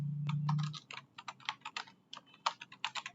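Quick irregular clicks of typing on a computer keyboard, close and crisp, with short bursts of keystrokes after a brief low hum at the start.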